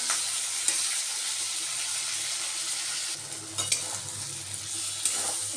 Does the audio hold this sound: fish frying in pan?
yes